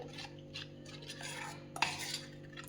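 A spoon stirs spinach batter with salt in a bowl, soft continuous scraping and clinking against the sides, faint and close, with one sharper clink near the end.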